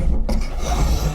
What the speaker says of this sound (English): I can come back with the spoke shave.